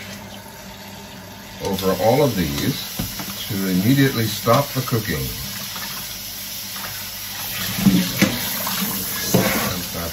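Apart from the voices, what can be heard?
cool water running from a tap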